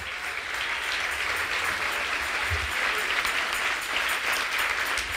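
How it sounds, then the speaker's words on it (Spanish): Steady applause from a church congregation fills the space, a dense even wash of clapping that holds for the whole stretch without any talk over it. "Si le va a dar el aplauso."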